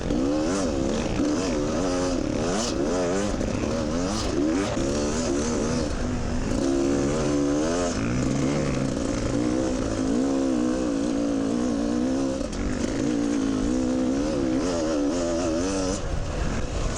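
Dirt bike engine labouring through soft, heavily whooped sand on a charity trail ride, loud and close throughout with constant revving that rises and falls as the rider struggles at low speed.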